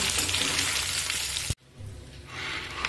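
Egg frying in oil in a pan sizzles loudly and steadily, then cuts off abruptly halfway before a softer sizzle returns and swells again.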